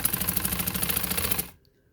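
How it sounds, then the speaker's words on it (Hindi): A sewing machine runs fast in an even rapid clatter while stitching lace onto a shirt neck, then stops abruptly, leaving near silence. "अच्छा अब मैं इसके ऊपर सिलाई लगा रही हूँ"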